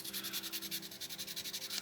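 Folded sandpaper rubbed back and forth over a soapstone owl carving, about a dozen quick, even scratchy strokes in a steady rhythm, close and fairly quiet.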